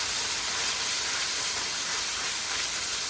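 Carne asada beef sears in a hot pan with a steady, loud broadband sizzle and hiss, continuous and unbroken throughout.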